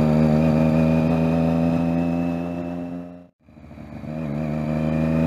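Exhaust note of a Triumph Daytona 675 riding through busy city traffic: a steady, close engine drone that cuts out for a split second, then picks back up.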